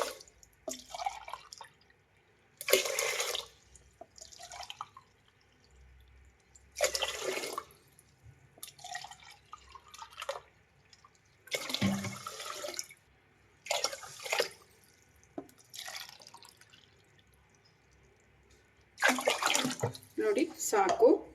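Water is poured in several separate splashing bursts into a pressure cooker holding rice and moong dal for sweet pongal, with quiet gaps and some talking between the pours.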